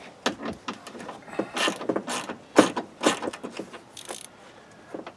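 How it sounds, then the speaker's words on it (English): Power window regulator from a 2000 Chevy Silverado under repair, giving irregular mechanical clicks, clunks and rattling bursts close up, with no talk. "this is a window regulator"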